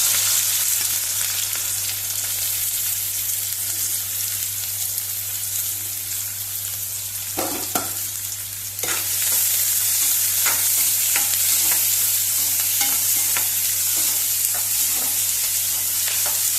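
Thin onion slices fry in hot oil for a Goan-style chicken dish, a steady close sizzle with occasional stirring scrapes and a constant low hum underneath, no talking.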